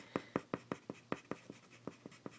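Graphite pencil strokes on paper, made while shading and hatching, come as about a dozen sharp, scratchy strokes in a steady, fairly quick rhythm. They are close up and quiet, with no talking.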